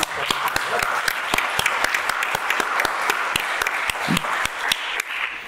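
Applause from the audience at the opening of a comic festival in Avilés, close, crisp hand claps over a steady crowd clapping, sustained and lively throughout.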